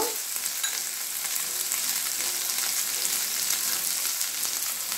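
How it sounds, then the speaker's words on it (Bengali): Chopped onion sautéing in a pan for a Spanish omelette, giving a constant, fairly loud frying sizzle with no pauses and no voices. "অনিয়নটাও আমি কিছুটা সতে করে নেব"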